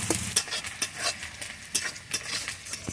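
Onions fry in mustard oil for chicken kosha, with loud scraping and clinking of a spoon against the pan over a continuous sizzle.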